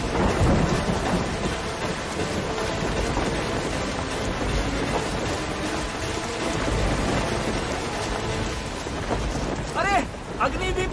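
Heavy rain pours during an outdoor wedding ceremony while thunder rumbles loudly through it. Dense, constant noise fills the scene, and voices speak over it near the end.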